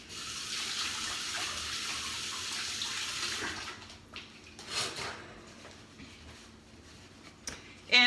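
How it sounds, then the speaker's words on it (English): A bathroom or kitchen tap runs steadily for a few seconds as hands are washed beneath it, the broadband water rush then cutting off into quieter splashes, drips and a brief clatter at the end. "wash my hands really quick"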